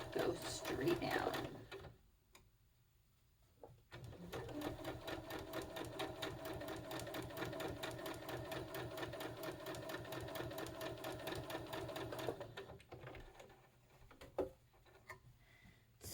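Sewing machine stitching quilt hexagon seams with a quarter-inch foot, running in one long steady whir of rapid needle beats for about eight seconds after brief handling noises, close and clear.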